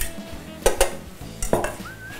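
A cabbage salad with dressing is stirred in a bowl, giving a few clear clinks and scrapes of utensil against the bowl in two short bursts, close by with no talking.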